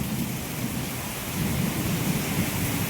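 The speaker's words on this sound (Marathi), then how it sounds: "काय तो पाऊस" Unseasonal heavy rain in the Konkan in May, a dense, loud, unbroken roar of downpour with deep rumbling thunder beneath, swelling slightly midway, no voices.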